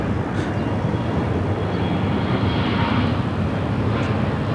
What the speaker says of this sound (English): United Flight 511 coming in from Chicago on a 737-900.